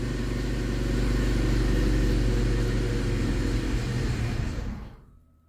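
A VAZ 2112 car engine idles roughly with a steady low rumble, then dies away and stalls in the final second, leaving near silence.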